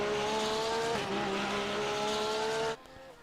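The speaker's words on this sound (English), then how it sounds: "Listen to the Porsche though, what a great noise it makes." Porsche 911 GT3 R (992) race car engine in a GT3 sim racing game at Long Beach, a loud sustained high-revving wail with rising harmonic sweeps and a brief gear-shift dip before cutting off near the end.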